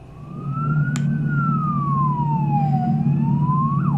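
A police car siren wails steadily throughout, its pitch sweeping slowly up and down at moderate distance over a constant low rumble of traffic or engine noise.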